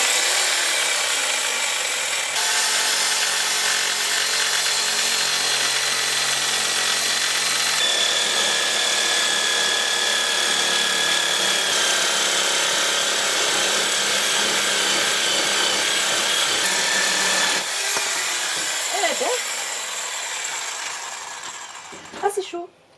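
A hand saw cutting through a wooden board for a homemade cat tree, with steady rasping strokes running continuously and loud for about twenty seconds, close by, before tapering off at the end.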